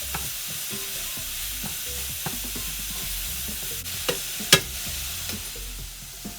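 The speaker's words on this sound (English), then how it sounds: "Our venison sausage here is continuing to cook." Venison sausage sizzles steadily in a hot pan while a utensil stirs and scrapes through the browning meat, with scattered clicks and one sharper clack near the end, close-up and with no voices.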